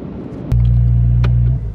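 A TECHART GT Street R tuned Porsche 992 Turbo S, about 800 hp, pulls away with a sudden deep, loud engine roar that holds steady for about a second before easing off, a brief higher burst cutting through midway.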